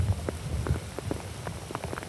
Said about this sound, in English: And as you can hear, the rain is getting heavier and heavier.